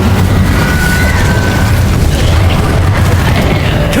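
Incendio fire spell cast in the Hogwarts Legacy video game, heard as a dense, continuous booming roar with a deep rumbling body and a faint rising whistle, loud and steady for four seconds with no talk.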